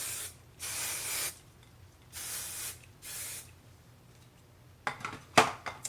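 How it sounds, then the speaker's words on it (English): Hairspray misted over freshly curled hair in several separate hissing bursts, each about a second long with short gaps, followed by a few light clattering handling sounds. "I'm gonna hairspray them."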